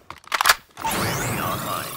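A weapon reload in Call of Duty Mobile at a firing range: a quick run of sharp mechanical clicks and a metallic snap, followed by a brief whooshing tail, close and crisp.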